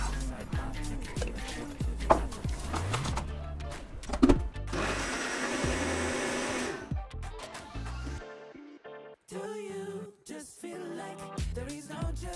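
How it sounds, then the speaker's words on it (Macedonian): A Russell Hobbs Nutri Booster blender whirs loudly through a banana smoothie in a short continuous burst, set among clunks, clatter and other kitchen handling noises. "со помош на мојот блендер Nutri Booster од Russell Hobbs, кој ги задржува сите нутритивни вредности при блендирање"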